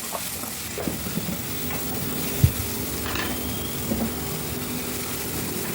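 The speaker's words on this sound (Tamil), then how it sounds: "இப்போ இதை நல்லா வதக்கிக்குவோம்." Tomatoes sizzling in a pan with salt, occasional scraping stirs and a sharp clink of a utensil, a steady frying hiss throughout.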